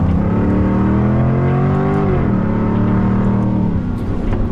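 A Jaguar engine revs hard on a technical racing circuit, its loud, steady drone climbing and dipping in pitch as the car works through the corners, close and continuous with no voices.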